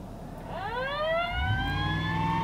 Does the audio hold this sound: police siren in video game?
yes